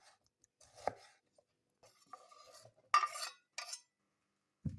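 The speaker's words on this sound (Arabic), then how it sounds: "هلا بدنا نقص راسين بندورة" Tomatoes being chopped for a Lebanese fattoush salad: a few sparse, quiet knife thuds against a cutting board with pauses between, plus a faint utensil clink.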